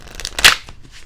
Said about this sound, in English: let's go ahead and give them a nice couple shuffles here.